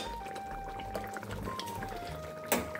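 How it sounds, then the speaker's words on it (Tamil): Banana flower gravy simmers in a pot with a low, steady bubbling, faint liquid gurgles and a soft ticking, ending in a brief sharper clatter near the close. "சூப்பராக கொதிக்குதுப்பா."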